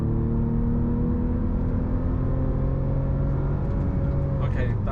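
Bentley in sports mode pulling hard through third gear, a loud sustained engine roar with rising pitch and rushing road noise throughout, ending in a brief clatter.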